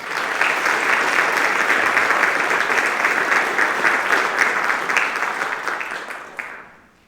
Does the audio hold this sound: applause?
yes